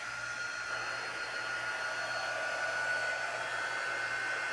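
Hair dryer blowing steadily on a craft lemon wreath, a constant airy whine and hum running without a break at a moderate, close level.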